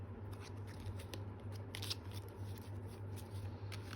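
A deck of cards is shuffled in a quiet room, giving a few soft riffling and crackling bursts over a faint low hum.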